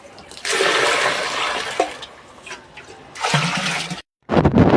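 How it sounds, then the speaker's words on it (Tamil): Water gushes and splashes loudly in two long bursts as it is poured out for cows on a farm, with a brief pause between pours and no voices. "பார்த்திங்கன்னா மாட்டுக்கு வந்து தண்ணி வைக்கிறோம்"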